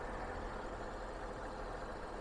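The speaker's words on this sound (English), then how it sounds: "You can hear it idling very smoothly" A 2007 Mercedes-Benz E550 4Matic with only 52k miles idles smoothly with the hood open, a steady, even engine hum heard up close, quiet and unbroken, with no talking.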